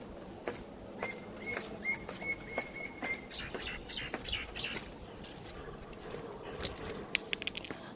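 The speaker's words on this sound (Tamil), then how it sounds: "நல்ல கிளிகளோட சவுண்டும் மைனாக்களோட சவுண்டுமே அவ்வளோ நல்லா இருக்குது கேட்குறதுக்கு" Parrots and mynas call around a quiet temple tank, scattered chirps and squawks at a moderate distance over steady outdoor wind noise, growing busier toward the end.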